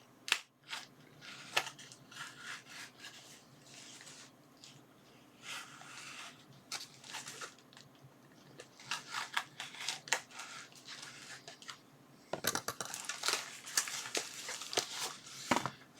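A foam-padded mail package is cut open with quiet scratchy snips and rustling, close and soft, rising into a louder burst of crinkly tearing and handling near the end.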